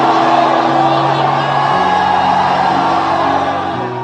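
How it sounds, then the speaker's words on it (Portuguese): An evangelical church congregation shouts glory, a loud sustained mass of cheering, whooping and yelling voices that fills the whole span without a break. "dê um grito de glória aí dentro"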